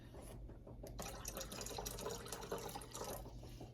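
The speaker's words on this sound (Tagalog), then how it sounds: "Dagdagan natin ng tubig para medyo" Tap water runs steadily into a cooking pot for ramen, a close, continuous splashing fill that starts with a soft trickle and swells to a full pour after a second, with a low hum underneath.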